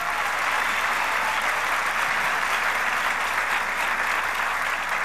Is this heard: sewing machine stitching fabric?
no